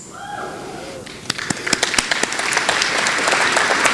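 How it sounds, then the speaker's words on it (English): A business awards gala crowd starts clapping after a brief quiet moment: scattered sharp claps at first, then swelling into fuller, steady applause from a room of many people. "I think that's worth some applause."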